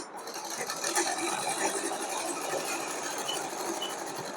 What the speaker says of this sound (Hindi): बिल्कुल सेंटर पर हम सिलाई लगाते जाएंगे।